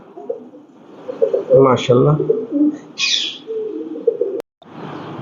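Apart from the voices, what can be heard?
Modena pigeons cooing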